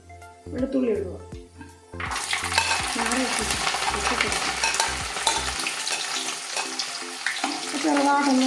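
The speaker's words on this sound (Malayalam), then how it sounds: "അത് കഴിഞ്ഞിട്ട് വെളുത്തുള്ളി ഇടുക." Garlic hits hot oil for Kerala-style mango pickle and bursts into a loud, close sizzle that holds steady with stirring, after brief talk at the start and more talk near the end.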